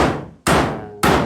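Two loud, sharp hammer blows land on wood while a stair railing is being installed, each strike ringing out and decaying before the next, close and without talk.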